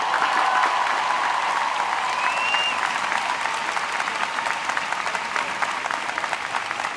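A large crowd applauds the valedictorian at a university commencement ceremony, with sustained, dense clapping throughout and a faint whistle rising briefly partway through.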